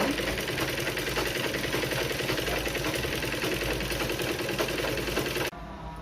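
A sewing machine stitches along the edge of a blouse piece in a steady, fast mechanical whir with dense rapid needle clatter, loud and close, running without pause before stopping abruptly near the end.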